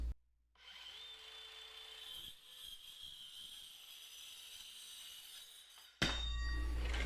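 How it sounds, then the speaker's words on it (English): A Dewalt DCS571 4.5-inch cordless circular saw spins up and cuts through material, a steady high whine running for several seconds with no talk, then a sudden louder, rougher burst near the end. "We're just going to press down on this while we pull the trigger, and we're going to start our blade before we're cutting into our material."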